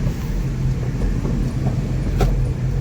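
Inside a car on the road to Manali, a steady low rumble of engine and tyre noise carries on throughout, with a brief sharper rattle near the end.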